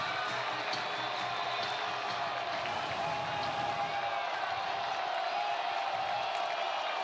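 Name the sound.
stadium crowd cheering at a Marshall college football game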